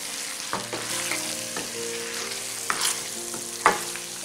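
Mutton kadai sizzling in a pan as fresh green coriander is stirred in, a constant loud frying hiss broken by several clattering scrapes of a spoon against the metal.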